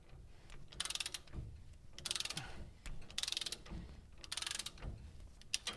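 A threading tool in a garage cuts threads in short repeated bursts, each a ratcheting, grinding whir lasting about half a second, separated by brief pauses and quiet clunks, close and moderately loud.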